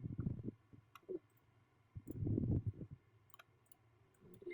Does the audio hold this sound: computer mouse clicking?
yes